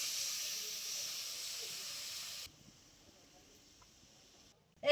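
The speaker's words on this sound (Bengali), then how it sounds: "এইদিকে টকের ঝোল খুব ভালো করে ফুটিয়ে নিয়েছি" Sour tamarind fish broth boils in a pot, giving a steady hissing bubble for about half the time. The sound then drops to a faint quiet, and a brief clatter closes it.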